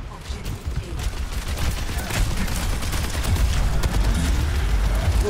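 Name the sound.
gunfire from the video game Overwatch 2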